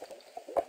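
Lava bubbles in the Minecraft video game, with soft, brief gurgling pops that end in one slightly louder bloop, quiet and close.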